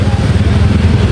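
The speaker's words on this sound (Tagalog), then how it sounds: "Ito at ayan, mga motorsiklo po." Motorcycles pass through a police checkpoint at a town boundary, their engines a close, loud, continuous rumble with some clatter.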